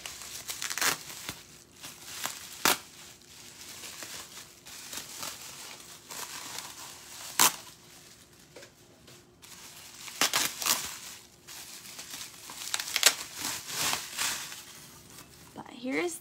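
Paper or plastic wrapping crinkles and tears in repeated bursts as a finished painted snowman shovel is unwrapped, close and fairly loud, with brief pauses between handfuls.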